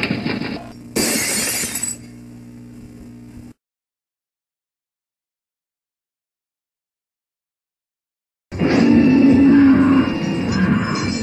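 Store windows shatter and goods break in a cartoon city game's mega market: two loud bursts of crashing glass with scattered debris, a long silence, then another loud crash with clattering pieces.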